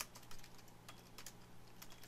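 Someone types on a computer keyboard during a game, with quick, light key clicks in short irregular bursts, close and quiet, with no voices.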